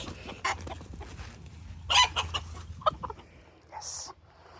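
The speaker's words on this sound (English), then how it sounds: "Oh, I hate roosters so much" Chickens and roosters cluck and call in a small backyard run, with several short, close squawks scattered between bursts of human talk and a steady low hum underneath.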